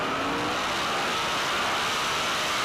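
A turbocharged Chevrolet Camaro Pro Modified drag car accelerates down a strip at an NHRA event in a continuous, loud, roaring engine wash with no voices.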